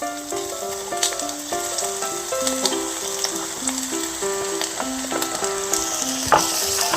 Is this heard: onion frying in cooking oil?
yes